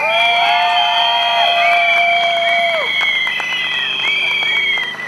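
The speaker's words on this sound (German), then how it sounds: "Applaus für euch!" Crowd at a street protest in Nuremberg cheers and whoops loudly, with shouting voices and whistles over a steady roar of applause, close and continuous throughout.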